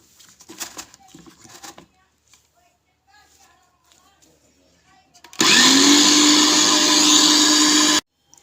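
A kitchen blender whirs loud and steady for about three seconds as it mixes parsley, garlic and hot pepper, starting abruptly and cutting off sharply, after quieter moments of someone talking and handling the ingredients.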